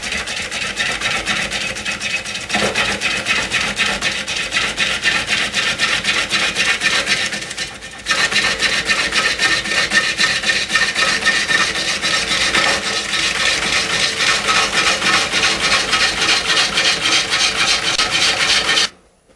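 Steady rasping, scraping cut of a wood lathe turning a log at about 250 RPM, loud and close, with a brief dip midway before the rough grinding resumes.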